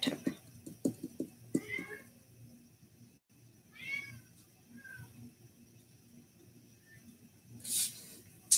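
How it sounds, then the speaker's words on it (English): A house cat yowls and meows in drawn-out, wavering calls in the background of a quiet room, faint and intermittent, with a few soft taps and knocks near the start. "my cat's singing us the song of his people in the background"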